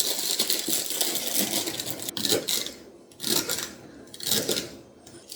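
A knife roughly chopping a celery stalk into 3-centimetre pieces in a home kitchen, giving close, crisp cuts in irregular bursts, with a couple of quieter pauses between runs of strokes.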